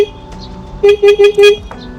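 A Linhai 500 4x4 quad bike's horn honks four times in quick succession, loud and close, with short gaps between the bursts over a faint idling hum.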